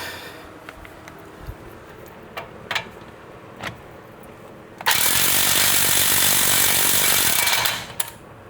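An impact wrench on a 2011 Cadillac Escalade's front brake caliper bolts fires in one loud, sustained three-second burst after a few quieter clanks and taps nearby.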